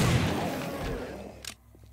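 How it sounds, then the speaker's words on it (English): Explosion in the video game 7 Days to Die: a heavy booming blast rolls out and decays over about a second, followed by a sharp crack and a few faint thuds as it dies away. "Are you the lone survivor of the big boy explosion?"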